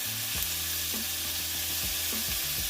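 Gochugaru sizzling and searing in a pot while cooking kimchi jjigae, a steady close fry hiss with a low bubbling hum and a few soft clinks or stirs.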